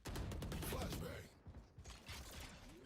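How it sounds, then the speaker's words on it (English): Spike being planted in the tactical shooter Valorant: a dense mechanical whirring and ratcheting plant sequence that fills the first second, then quieter clicky mechanical ticks and tones trailing off. "Spike planted."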